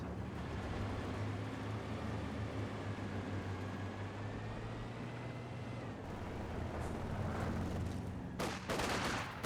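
Machine gun fire rattles from an MG40 in Company of Heroes 2, a dense, continuous stream of shots under a low battlefield rumble, with a few sharper bursts near the end.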